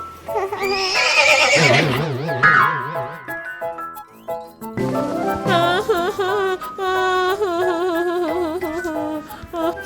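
A cartoon horse on a farm gives a loud, wavering, exaggerated whinny, followed by bouncy, tonal, comic sound effects and animated character noises.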